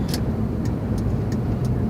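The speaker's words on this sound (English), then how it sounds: "This AT&T truck is getting real close to me." An AT&T truck drives close by, producing a steady, loud low rumble of engine and road noise, with faint regular ticking on top.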